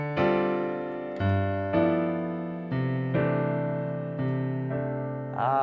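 Piano playing a 2-5-1 chord progression in quartal voicings, a sequence of sustained chords struck one after another at an unhurried pace, each ringing and decaying, clear and close with no talking.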